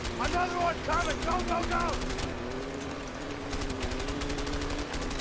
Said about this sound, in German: Schieß auf das Flugzeug oder so